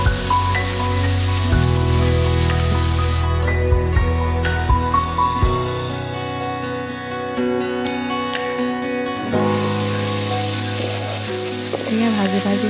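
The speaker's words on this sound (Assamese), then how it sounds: "এয়া লাহে লাহে ভাজি হৈছে আৰু ধুনীয়াকৈ। এয়া লাহে লাহে জয় পৰিছে কচু শাককেইডাল।" Taro leaves sizzle and crackle steadily in a hot pan with oil, a continuous close frying hiss with occasional stirring scrapes and a tonal hum underneath, no talking.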